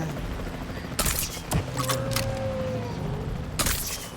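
Tranquilizer shots fired from a capture team helicopter in the video game Jurassic World Evolution 3: sharp cracks ring out at a time, with the rotor rumbling steadily beneath them.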